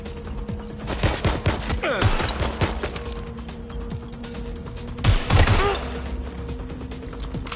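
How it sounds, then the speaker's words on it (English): Rapid bursts of gunfire crackle repeatedly over a steady synthetic hum, with mechanical clicks and a heavier volley midway, like combat audio from the video game Watch Dogs: Legion. "You hear gunfire?"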